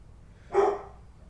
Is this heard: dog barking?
yes